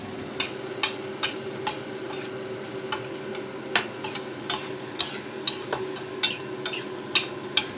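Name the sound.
stir-frying squid in a pan with squid ink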